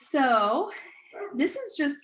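An old dog, thirteen years of age, barks and yips indoors in short, loud bursts over a couple of seconds, with a person talking through and around the barking.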